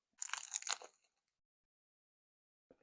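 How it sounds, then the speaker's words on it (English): A single loud, close crunch as teeth bite into a crispy fried taco dorado, lasting under a second, then near silence with a faint chewing sound at the end. "One more bite just in case you didn't hear that crunch."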